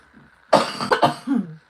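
A single harsh cough, close and loud, breaking into a couple of rough bursts before trailing off.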